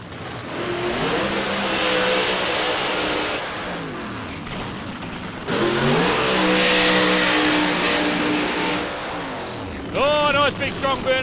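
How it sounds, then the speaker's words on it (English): Two nitro funny cars do long burnouts at Palmyra Dragway, a loud raw engine roar with rising and falling revs in two big bursts over about ten seconds, heard alongside a commentator's voice. "Big strong burnouts from both the boys."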